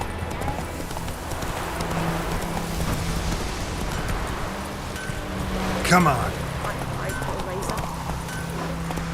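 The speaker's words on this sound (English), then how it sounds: "It's raining, it's pouring" Hooves clip-clop steadily under patter of rain and wind in The Witcher 3, with a player talking over the game sound and a brief sharp noise near the middle.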